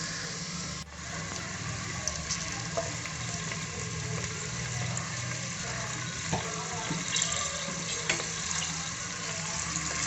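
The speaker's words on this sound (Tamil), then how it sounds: "எண்ணெய் கொஞ்சம் சூடானதும் வெங்காயத்தை உள்ள சேர்த்துக்கலாம்" Onions frying in hot oil for an egg biryani, a steady, continuous sizzle and crackle that holds at an even level throughout with no voices.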